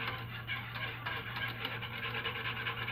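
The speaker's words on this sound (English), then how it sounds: "I'm just going to keep this stirring." Gluten-free cornstarch pudding is stirred in a pot, with a continuous soft rubbing and scraping of the spoon over the bottom under a low steady hum, close and quiet.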